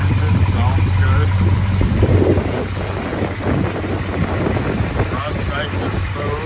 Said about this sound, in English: there you can hear the engine, sounds good.